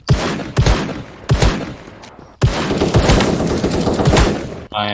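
Revolver shots in the Krunker.io browser shooter ring out as sharp, loud cracks, several spaced single shots followed by a denser stretch of firing and echoing noise before a sudden stop.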